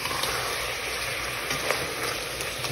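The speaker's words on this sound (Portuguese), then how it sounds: "o alho tá fritando pra gente poder jogar nosso feijão" Garlic fries in a pan in a rural kitchen, a steady close hiss and crackle of sizzling oil with no voices over it.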